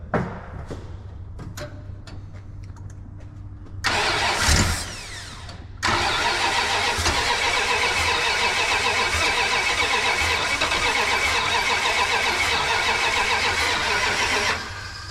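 A 1988 Dodge Power Ram truck that sat for 23 years cranks with a short starter whir, then fires up and settles into a loud, steady rough idle that runs for about nine seconds before cutting out.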